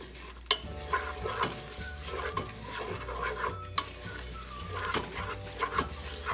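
Kettle corn popcorn with sugar being stirred and shaken in a hot pot, giving a steady scraping and rattling with sizzling underneath and a few sharper knocks, close and fairly loud with no talking.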